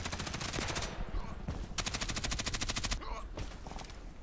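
Gunfire in the online shooter Contract Wars comes in rapid automatic bursts, loud, close rattling volleys separated by short pauses, with a few single shots near the end.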